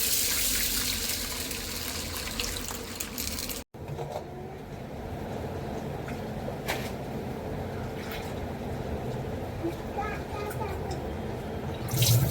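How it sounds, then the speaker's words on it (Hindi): Running water splashes steadily in a kitchen sink as dal lentils are washed, a continuous close rush with a brief break partway through, while someone talks over it. "दाल को अच्छे से धो लिया है मैंने"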